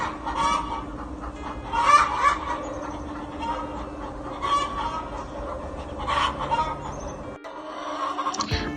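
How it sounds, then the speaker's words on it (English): Backyard flock of chickens including Rhode Island Reds clucking on a cold Oklahoma morning, repeated nearby clucks and squawks in irregular bursts over steady background noise, one bird calling louder now and then. "I was greeted by a most beautiful, beautiful chicken song."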